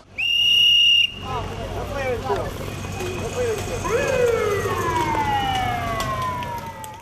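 Police patrol cars and an ambulance run their sirens while escorting a cycling race, a junior women's time trial near Starokostiantyniv. A piercing steady whistle tone lasts about a second, then rising and falling wails sweep on and off over constant road noise.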